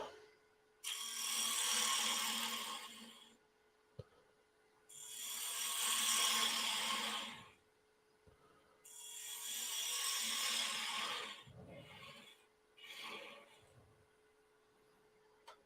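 A woodturning tool cuts a hollow form on a wood lathe, giving three long scraping, rasping passes separated by pauses over a steady motor hum, then a few shorter cuts near the end.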